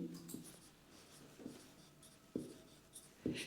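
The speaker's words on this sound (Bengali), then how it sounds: "আমরা একটু এই সাইডে লিখি" Chalk or a marker writes on a board during a physics lecture on electric intensity, making four faint, separate scratchy strokes in a quiet room with no talking.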